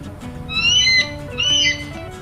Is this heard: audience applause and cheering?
no